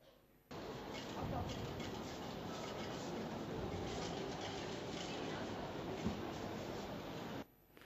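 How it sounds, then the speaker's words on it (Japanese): Steady broadband crowd noise of a busy indoor exhibition hall, a dense murmur of many distant voices and activity that starts and stops abruptly. "これはこの展示会場の音だと思いますが"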